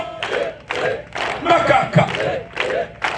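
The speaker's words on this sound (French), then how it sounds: "Applaudissons." A congregation at a worship gathering claps in rhythmic bursts, with shouts and cries mixed in. The clapping comes in uneven waves, close and lively.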